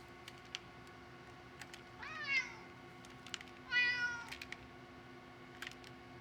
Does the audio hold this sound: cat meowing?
yes